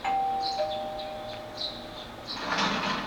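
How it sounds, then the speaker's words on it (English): A doorbell in Persona 4 rings with a clear two-tone chime, followed by a few soft higher chiming notes and a brief burst of noise near the end. "The doorbell's ringing."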